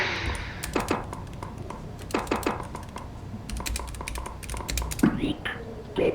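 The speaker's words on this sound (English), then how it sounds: "I think he can hear your typing." Rapid clusters of keyboard typing clicks come in bursts during a horror looting game session, with game sounds and soft voices underneath.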